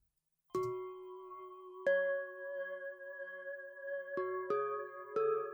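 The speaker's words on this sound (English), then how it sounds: "the next thing I add is this bell right here. And that is Citrus. That's a stock FL plugin." Bell-like synth notes from the stock Citrus plugin in FL Studio, playing a few sustained, ringing chord hits that start one after another and overlap, clear and alone with no voices.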